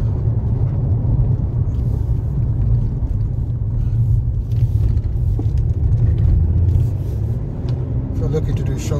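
A 2016 Jaguar XE D Portfolio diesel saloon accelerates in sport mode, its engine giving a loud, steady low rumble heard from the cabin with road noise throughout.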